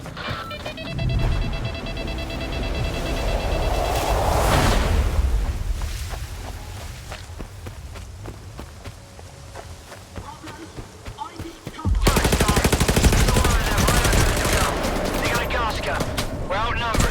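Rapid gunfire in STALKER 2: Heart of Chornobyl crackles in dense bursts, with a louder sustained volley near the end, amid shouts and game-like noise.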